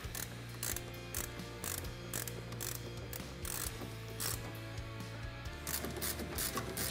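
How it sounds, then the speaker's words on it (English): Rapid ratchet-and-pawl clicking in steady bursts as a hand ratchet tightens nut-and-washer wiring connections on a winch control box during a Black Ops winch install on a Polaris Ranger XP 900, close and clear over a low background hum. "we'll go ahead and tighten our connections down on our control box here"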